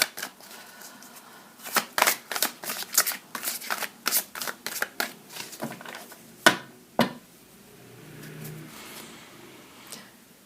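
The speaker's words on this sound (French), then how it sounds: "J'allais étirer, mais je veux couper le paquet" A tarot card deck being cut and shuffled by hand, a run of quick crisp riffling bursts and slaps in an irregular rhythm, close and fairly quiet, with a few softer rustles trailing off at the end.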